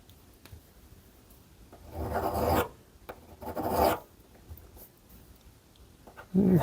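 Hand filing on 1/8 inch stainless steel round stock to cut a flat spot: two distinct raspy strokes, close and fairly loud, separated by quiet pauses, with another stroke starting at the very end.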